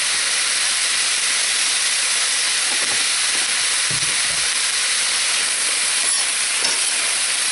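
Vegetables fry in hot oil with a steady, loud, continuous sizzle and hiss, with a few faint clatters underneath and no voices.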